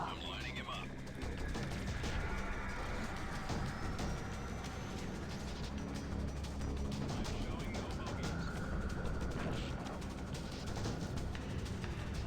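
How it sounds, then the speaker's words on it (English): Dense gunfire in a space combat video game, a steady wash of rapid shots rolling behind the player throughout, mixed with game sounds and a voice talking over it. "That was quite a bit of gunfire behind us"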